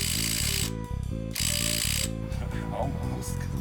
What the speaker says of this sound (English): I'm gonna try that again with an impact wrench.